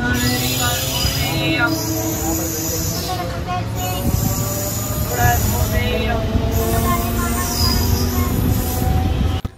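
MEMU express train pulling out of Ponneri railway station, a loud steady rumble and rolling clatter with rising wheel whine heard from on board, while people talk over the noise.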